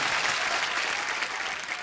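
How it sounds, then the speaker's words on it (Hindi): Studio audience of The Kapil Sharma Show clapping loudly in a dense, continuous burst of applause that fills the short clip and fades slightly toward the end. "जोरदार तालियां आ जाए यार"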